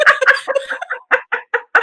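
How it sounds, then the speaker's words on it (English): A rooster or chicken clucks nearby in a quick, loud series of short, choppy calls with brief gaps between them, and nothing else is heard. "I actually really enjoy the rooster"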